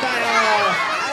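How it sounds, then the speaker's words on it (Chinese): Kindergarten children at an elementary school cheer and shout together during a Christmas visit from a costumed bear mascot, a dense continuous crowd of young voices close by for a moment. "引起小朋友热烈的欢呼声"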